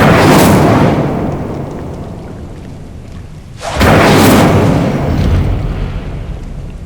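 Two loud, roaring fire blasts from the Incendio spell in Hogwarts Legacy, one at the start and another midway, each swelling then trailing off into a rumbling tail.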